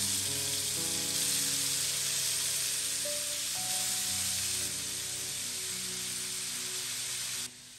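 Chicken pieces fry in a hot pan of spices and onions for biryani, giving a loud, steady sizzle heard up close, with a low background hum that cuts out at the very end.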